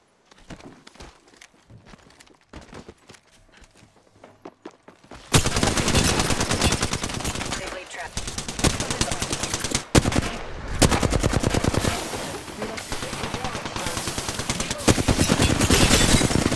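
Rapid automatic gunfire in the video game Apex Legends: after a quieter stretch of small clicks and movement, loud sustained machine-gun bursts fill the rest of the clip with a brief pause near the middle.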